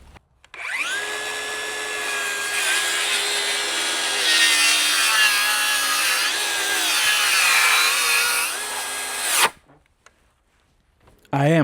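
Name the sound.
DeWalt DCS590 or Milwaukee 2834 cordless circular saw cutting wood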